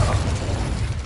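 Incendio fire spell cast in the video game Hogwarts Legacy: a loud, continuous roaring burst of flame with dense low rumble and crackle, filling the moment with no pause.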